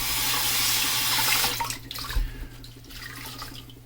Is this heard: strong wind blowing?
no